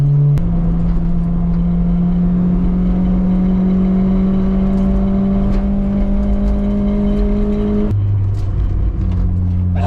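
Honda Civic EJ9 on the road with freshly fitted brakes, a steady droning engine hum that holds its pitch, then drops sharply as the car slows, heard from inside the cabin with no talk.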